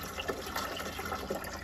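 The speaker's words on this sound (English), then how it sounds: "and then you just add the water." A pitcher pours water into the tank of a Honeywell portable evaporative cooler, giving a brief, steady, faint splashing gush.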